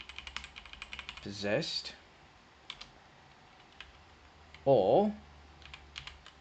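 Keys clatter on a computer keyboard as code is typed, a light run of quiet clicks under a man's intermittent speech.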